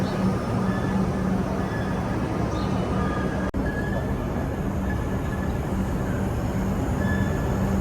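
A train pulling into Southern Cross station in Melbourne, a loud, steady rumble of wheels and cars rolling along the platform, with a faint high squeal and a short break partway through, and a voice murmuring underneath.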